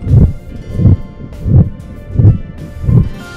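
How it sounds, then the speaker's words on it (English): A dairy cow chews its cud, giving five evenly spaced, low, muffled grinding bursts roughly every 0.7 seconds, close and moderately loud with soft rustling between chews. "That's the sound of rumination."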